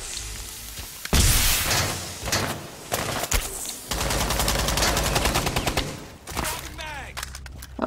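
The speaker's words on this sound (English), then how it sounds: "He's shooting, he's shooting through it." Rapid bursts of automatic gunfire from the Rainbow Six Siege video game, loud and close, with long sustained volleys separated by brief gaps and a few quieter pauses.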